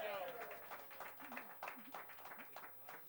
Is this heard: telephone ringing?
no